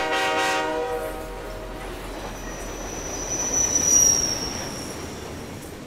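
A train rolls past with a steady rumble, a horn-like tonal blast at the start and a thin, high wheel squeal that rises and fades midway, the noise swelling slightly before easing off.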